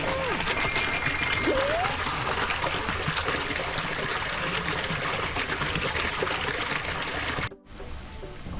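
Water pours and trickles steadily into the tank of a running three-compartment grease-trap filtration system at a site on Rama 2 road, a continuous close rushing stream that drops out abruptly near the end.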